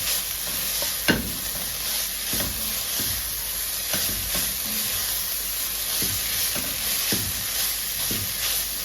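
Chicken mince with finely chopped carrots stir-frying in a pan, a steady hiss of frying under regular scrapes of the spatula, roughly one stroke a second, close and with no talking.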